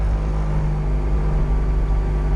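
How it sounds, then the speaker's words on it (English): Inside a Mazda Miata with Hasport engine mounts, the engine hums as a constant low drone and the mounts send a buzzing vibration through the car throughout. "You can hear my Haas Sport engine mounts just vibrating the shit out of the car."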